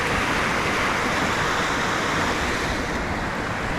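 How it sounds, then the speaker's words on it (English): Steady broadband roar of water surging downstream at Indian Flats Falls, continuous and fairly loud with no pauses, heard near and alone without voices. "Give you a shot real quick of what it looks like downstream. This water surging."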